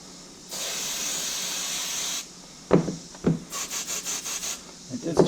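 Compressed air blows in two loud hissing bursts, the first long and steady and the second broken into short spurts, while rubber grips are fitted onto Harley motorcycle handlebars, with rubbing and handling noises in between.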